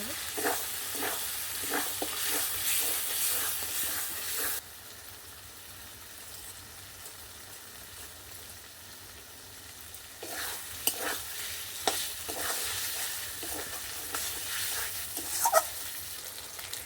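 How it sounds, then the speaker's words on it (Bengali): Boiled potato pieces frying in a pan for ghugni, stirred with a spatula: steady sizzling with scraping strokes in bursts, a quieter stretch in the middle, then more stirring with a few clinks, close and without talk. "সেদ্ধ করা আলুটা আমি পিস পিস করে কেটে নিয়েছি দিয়ে নাড়াচাড়া করে"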